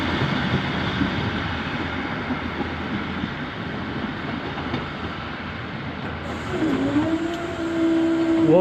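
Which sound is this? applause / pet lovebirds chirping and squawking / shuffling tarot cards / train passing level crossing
train passing level crossing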